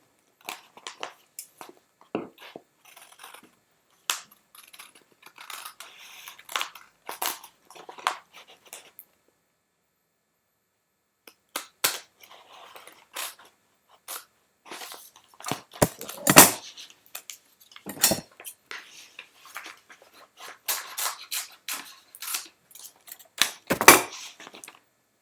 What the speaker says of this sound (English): Using the scissors.